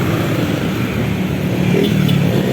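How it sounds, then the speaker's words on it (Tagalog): A motorcycle speeds past on a road near Robinson Imus in Imus, heard as a steady close engine roar with rising revs and traffic noise throughout. "Ang bilis ng motor."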